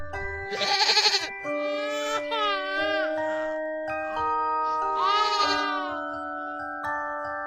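Goat bleating loudly in wavering, drawn-out cries, several calls in a row with a brief pause between, clear and close with no talking.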